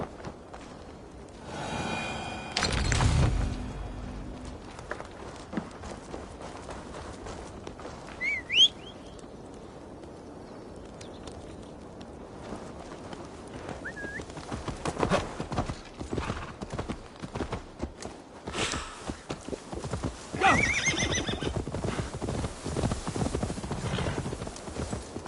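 Horse hooves clip-clop at a gallop through the video game Assassin's Creed Valhalla, steady and fairly close, with a brief neigh and scattered bird calls, plus a short exclaiming voice early on.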